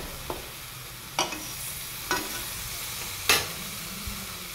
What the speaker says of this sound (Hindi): इस पेस्ट को हम अच्छे से फ्राई कर लेंगे। अब हमारा प्याज भून गया है